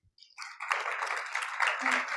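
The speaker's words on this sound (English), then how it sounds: "Could I get a round of applause?" An audience at an annual meeting training session breaks into applause, a dense wash of clapping that starts quickly and holds steady.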